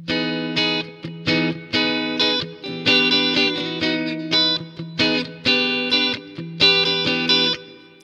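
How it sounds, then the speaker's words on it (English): Clean electric guitar on an Ibanez SC420 using the two inner humbucker coils, with a slightly hollow, thinner tone, strumming chords in a steady rhythmic pattern with ringing notes, close and clear. "the two inner coils of the humbuckers."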